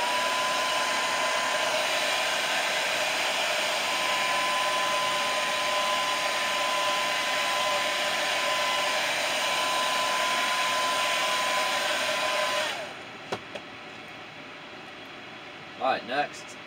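A hair dryer blows steadily and loudly on a freshly painted crankbait fishing lure for about twelve seconds, a constant whooshing hum, then cuts off abruptly into quiet with a few faint handling noises.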